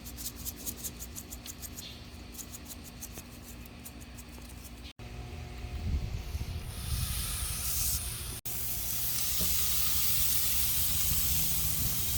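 Wagyu picanha sears over hot lump charcoal on a grill, a steady broadband hiss and sizzle that swells loud and constant after a few seconds of quieter crackle.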